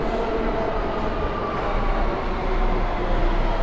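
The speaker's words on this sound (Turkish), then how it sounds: "Şimdi E train geçiyor. Şu arkamdaki." A New York subway E train passing close by, a loud continuous rumbling roar of rolling wheels and cars holding steady throughout, with no talk over it.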